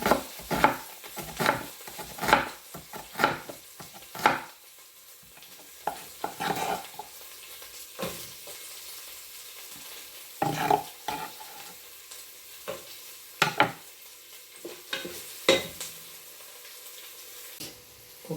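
Curry leaves and two or three green chillies sautéing in a pan for a duck curry, a soft sizzle under repeated scraping stirs and utensil taps at an irregular pace.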